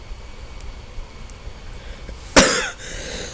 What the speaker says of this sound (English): my cough is not good right now